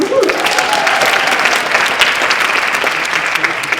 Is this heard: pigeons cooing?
no